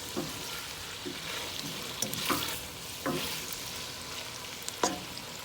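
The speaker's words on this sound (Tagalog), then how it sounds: "Haluin natin siya" Dinuguan, a beef blood stew, stirred in a pot: a steady low sizzle broken by about five sharp scraping strokes of the spoon, close and clear, with no talking.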